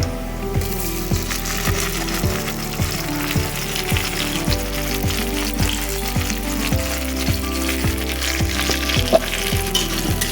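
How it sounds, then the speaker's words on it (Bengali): Onion and chopped tomato frying in oil in a pan for chicken curry, giving a loud, close, continuous sizzle with occasional soft stirring sounds and steady background hum, and no talking. "পেঁয়াজটা লাল লাল করে ভাজা হয়ে গেছে, এখন আমি দিয়ে দেবো টমেটো কুচি।"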